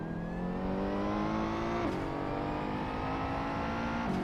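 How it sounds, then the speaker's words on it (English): Ferrari 488 GT3 race car engine modded into the Assetto Corsa racing game, a steady loud high-revving drone with rising harmonic pitch and two quick gear-shift dips, continuous with no talk. "The sound, at least according to Content Manager, comes from Kuno's own Ferrari 488 GT3 from"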